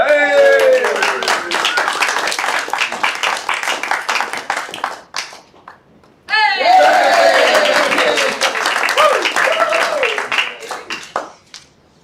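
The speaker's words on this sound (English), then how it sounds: "give a great round of applause to Aaron Davey" Auction attendees clap for Aaron Davey in a room during a live trade auction. Brisk clapping runs throughout under prominent speaking voices and breaks briefly in the middle before resuming.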